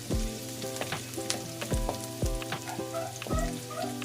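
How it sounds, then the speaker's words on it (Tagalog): Sliced onion and garlic crackle and sizzle in a pan as the base for a tilapia fish escabeche, with ringing metallic clinks and scrapes from stirring throughout, close by and with no voices. "lutuin lang muna natin yung ating sibuyas sa bawang"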